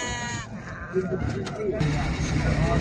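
Male Bor Karaman lambs bleat with wavering cries at a livestock market in Maştağa, over a busy background of voices and crowd noise, the calls overlapping and continuing throughout.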